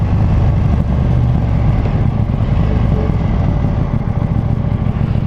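A KTM Duke 790 motorcycle on a test ride roars loudly and continuously from up close, its deep engine drone steady throughout along with wind rush.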